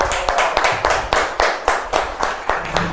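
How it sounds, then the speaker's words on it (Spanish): Audience applause at a televised music show, a steady crowd of clapping hands with a rhythmic, pulsing character, fairly close and filling the room, no talk over it. "¡Fuerte el aplauso para él!"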